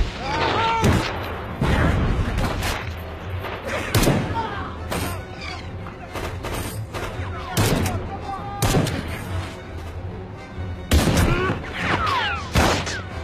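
Explosions and gunfire from a military combat scene in an action film, with repeated heavy booming blasts and bursts of shots at close range, broken by shouted voices throughout.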